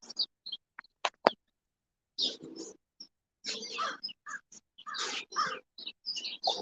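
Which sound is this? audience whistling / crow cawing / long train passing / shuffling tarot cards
crow cawing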